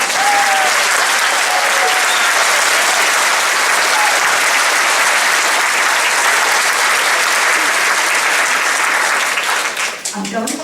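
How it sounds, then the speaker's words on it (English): A loud, sustained round of applause at a nursing graduation ceremony, dense clapping from a large crowd that holds steady before tapering off near the end as a voice comes in. "You deserve another round of applause."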